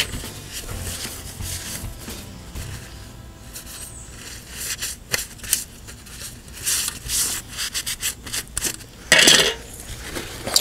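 Scrubbing sanded paint residue off arcade cabinet speaker grills with Simple Green, a close, uneven rubbing and scratching with scattered clinks and a sharper metallic scrape near the end, no talk.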